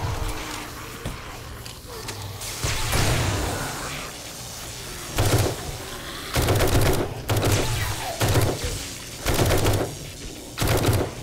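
Shotgun blasts in 7 Days to Die during a zombie horde night ring out as loud, evenly spaced booms, about half a dozen in a row, over a noisy game background.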